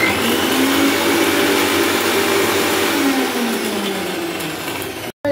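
A kitchen mixer grinder grinds mustard seeds with green chillies in a steady, loud, close motor whine that runs continuously for several seconds, then cuts off briefly near the end.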